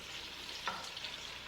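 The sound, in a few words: smoked sausage frying in a pot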